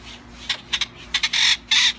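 A rescued wild bird, just taken down from a tree beside a pool, calls in short sharp bursts, a few separate chirps followed by two longer, louder squawks, close to the listener with no talk.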